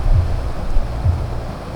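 Strong wind buffets the microphone outdoors during rain, a steady low rumbling roar with gusty swells and no voices.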